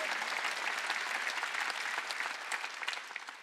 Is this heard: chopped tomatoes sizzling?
no